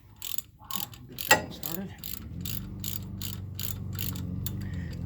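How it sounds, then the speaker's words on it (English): Ratchet wrench turning brake caliper bolts on a front-wheel-drive sport compact race car, a quick series of close metallic clicks with a brief clank, as someone speaks briefly. "I'm not going to tighten that first one down until we get the second one started."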